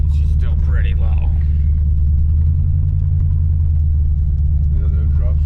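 A lowered hot rod on airbag suspension rumbles down the road with a steady deep engine drone, as people talk inside the car over it.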